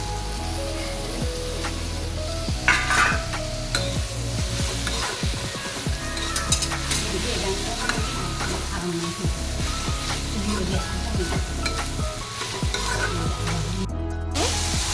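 Chopped tomatoes fry in a pan with salt and turmeric, a continuous close crackling sizzle with repeated stirring scrapes and clacks throughout, steady and moderately loud with no talking.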